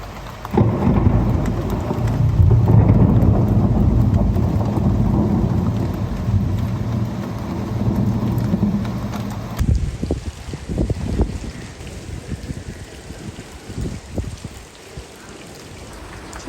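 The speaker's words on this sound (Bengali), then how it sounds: "আবারও বৃষ্টি এখনও থামে নেই সারা রাত বৃষ্টি হয়েছে এমন বিদ্যুৎ চমকানো" Heavy rain during a night-long storm with lightning, a loud rolling rumble of thunder filling the first half, then the patter and splash of falling rain carrying on alone.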